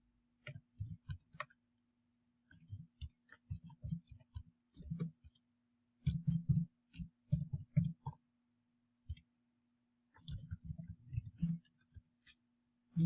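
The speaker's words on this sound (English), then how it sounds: "As you start to type into the database, you will see that another row is automatically created." Bursts of quick, light keyboard clicks from someone typing data into a Microsoft Access database come in several clusters separated by pauses, fairly close and moderately soft, with no voice over them.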